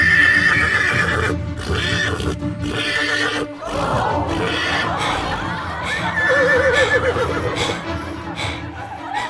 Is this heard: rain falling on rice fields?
no